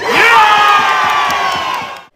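A large rally crowd outside state parliament shouts in unison, a loud, sustained roar of many voices that swells and then cuts off after about two seconds.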